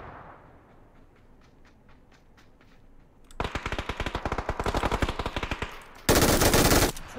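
Gunfire in PUBG: Battlegrounds, a few faint distant shots, then a loud close burst of rapid automatic fire, followed by an even heavier sustained volley near the end.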